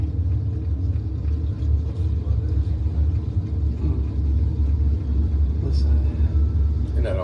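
Sprint car engines roar in a deep, steady rumble as a field makes a wave lap around Paragon Speedway. The sound is loud and continuous, with people talking over it.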